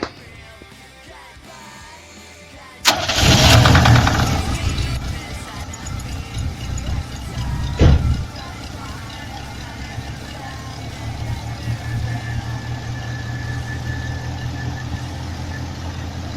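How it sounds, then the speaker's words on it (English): An engine cranks and catches abruptly, roaring up before settling into a steady, rumbling idle with a brief sharp bump midway. "we're going to try to fire it up, see how it sounds now"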